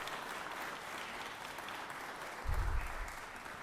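Applause in the Georgia Senate chamber, a soft, steady patter of clapping heard from a distance in a large room, with a brief low thump partway through.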